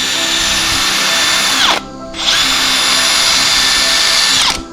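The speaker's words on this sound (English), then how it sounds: "I'm going to drill a hole" Electric drill bores a hole through a homemade Murray cod fishing lure, a loud close whine that spins down, stops briefly, then starts again before winding down.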